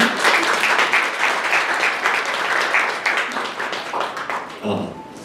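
Audience applause at a press conference and media tour for an illustrator, a dense, steady round of clapping that fills most of the stretch and then tapers off toward the end.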